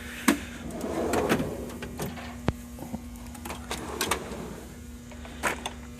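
A metal tool box drawer slides open in a garage workshop, a few scattered clicks and rattles of tools shifting inside, fairly quiet and close.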